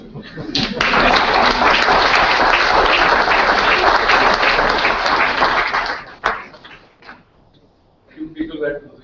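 Conference audience clapping steadily and loudly for about six seconds, then fading out, followed by a few knocks and a little talk.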